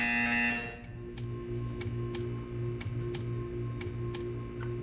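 In Portal 2, a steady electronic buzzer tone gives way to a regular series of sharp ticking pulses, about two per second, over a constant mechanical hum, with no talking.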